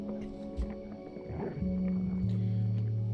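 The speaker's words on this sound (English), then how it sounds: "The coyote is eating the cat and all of its babies right now." In the video game Before Your Eyes, a coyote eats a cat and its kittens: low growling and snarling with wet chewing, rising into a sustained rumbling roar toward the end, close and moderately loud.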